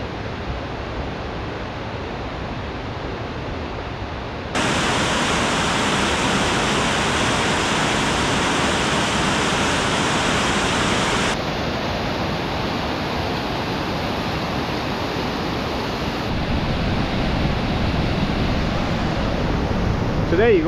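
Steady, loud broadband roar of a waterfall, close and continuous, swelling louder after a few seconds and holding without pause.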